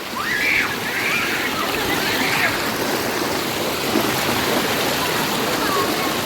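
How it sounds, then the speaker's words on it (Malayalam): The Gunung Pulai waterfall in Johor, Malaysia rushes with a constant broadband roar, loud and unbroken, and a few high faint calls sound briefly over the water near the start. "അതാണ് വെള്ളച്ചാട്ടം"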